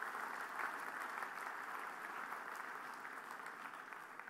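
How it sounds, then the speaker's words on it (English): A conference audience applauds the event's sponsors with steady, dense clapping that stays at an even level throughout, heard from a distance in a large hall. "I'd like you to join me in a big round of applause for all the sponsors of NTLF"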